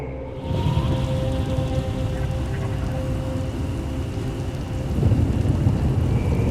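A thunderstorm rolls through the video game SWTOR, with steady heavy rain and a deep, sustained rumble of thunder that swells louder near the end.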